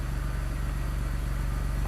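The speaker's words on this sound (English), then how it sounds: "gonna go ahead and fire the car up" A car engine runs at a steady idle just after starting during basic repair work, a low even rumble with a faint rhythmic pulse, close and unbroken.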